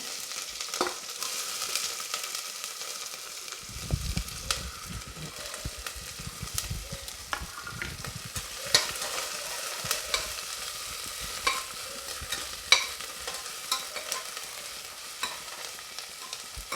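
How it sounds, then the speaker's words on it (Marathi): Cumin, mustard seeds and chopped onion hit hot oil in a pan, giving a steady sizzle that swells when the onion goes in, with scattered crackles and pops and occasional stirring clatter. "तेल आपलं तापून झालेलं आहे. जिरे मोहरी टाकू, कांदा टाकायचा,"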